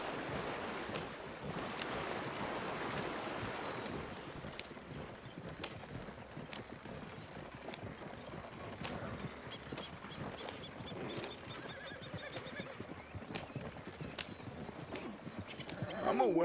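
Horse hooves clip-clop steadily as a horse pulls a wagon outdoors, a continuous clattering rhythm with faint water-like background noise and a brief louder burst at the end.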